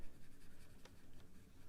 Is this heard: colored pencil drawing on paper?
yes